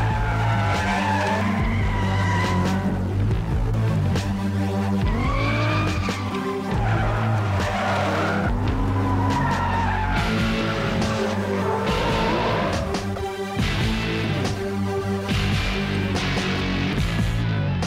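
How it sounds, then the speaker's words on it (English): Cars drifting at Irwindale Speedway on an amateur test day, tires squealing in long wavering howls over roaring engines, loud and nearly continuous as the cars slide past. "Drift Buffet's test day at Irwindale Speedway allows amateur drifters to share much-valued track time with seasoned professionals like Reese Millen, Tanner Fous"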